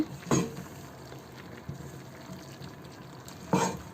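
Beef tripe bhuna is stirred in a cooking pot, with two distinct scraping stirs a few seconds apart over a quiet, low simmer.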